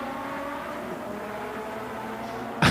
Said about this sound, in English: TVR Grand Tourer back into the action